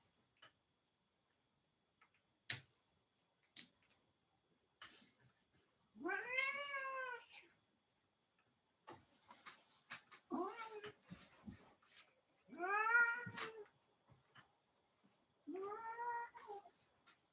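Domestic cat meowing in several drawn-out, rising-and-falling calls spaced a few seconds apart, close and clear, with a few sharp ticks and light clicks between them and no talking.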